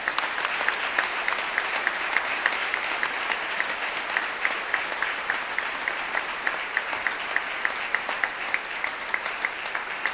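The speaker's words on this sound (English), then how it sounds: "I'd like to propose a round of applause for all the people who haven't won prizes today" Audience applause fills a school speech day hall, steady and sustained throughout with dense clapping from a large crowd and no voices above it.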